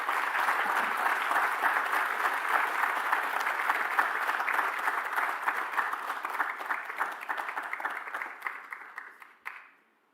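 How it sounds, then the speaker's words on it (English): A lecture audience claps in sustained, dense applause that stays steady, then thins and dies away in the final moments. "Let's give you another round of applause."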